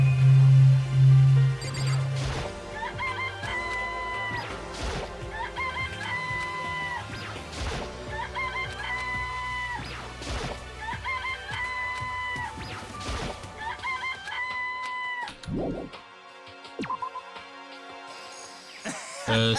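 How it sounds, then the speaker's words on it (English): Chickens cluck and a rooster crows in Danganronpa: Trigger Happy Havoc, mixed with repeated game sound effects and short musical phrases that come back over about twenty seconds. "This place even has chickens, huh?"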